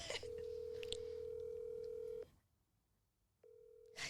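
A telephone call rings out: a steady ringback tone sounds for about two seconds, falls silent, then starts again, heard faint and clean with no talking.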